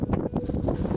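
Wind gusts on Dhobadi hill in Nawalparasi buffet the microphone in a low, uneven rumble, close and continuous, with no voices.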